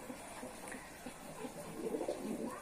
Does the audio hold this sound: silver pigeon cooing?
yes